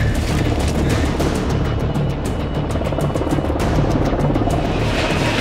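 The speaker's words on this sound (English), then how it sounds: "All right, the choppers are coming in." Helicopters approach at a remote cable site, a loud continuous rotor and engine roar filling the whole stretch with steady low-frequency thumping and broadband noise, close and constant throughout.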